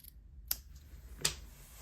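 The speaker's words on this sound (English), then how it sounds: "Let's now trim the ends. I'm going to cut on an angle." Two crisp scissor snips trim paper ends at an angle, close and quiet, spaced about a second apart in near silence.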